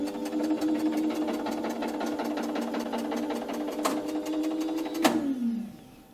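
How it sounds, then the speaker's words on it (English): A spring-charging motor on a medium voltage circuit breaker whirs steadily with a rapid rhythmic buzz, then winds down sharply with a falling pitch as the spring finishes charging. "So I need to run the motor with B10E. I put B10E to motor, and I'm going to run the motor."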